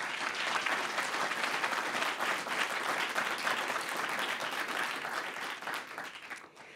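An annual meeting audience gives an award recipient a sustained round of applause, dense and even for several seconds before tapering slightly at the end, with no voices.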